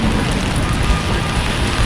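Heavy rain hisses steadily over a street in Chinatown, New York City, a dense, loud wash of noise with wind buffeting the microphone throughout.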